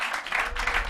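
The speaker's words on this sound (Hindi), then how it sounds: "प्रभु को ताली बजा और महिमा करे।" A church congregation claps in praise during a Hindi sermon, a brief burst of scattered hand claps at moderate loudness.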